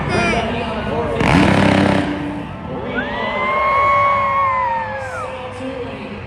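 A 450 dirt bike engine revs in rising and falling sweeps at a monster truck show, loud and close, following a burst of cheering crowd, with an announcer's voice running over the arena noise.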